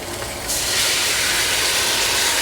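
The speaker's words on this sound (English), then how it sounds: "I'm going to take some of this beef stock and deglaze this pan just a little bit" Beef stock poured into a hot stainless pan to deglaze after searing short ribs, setting off a sudden loud burst of hissing steam that holds steady to the end.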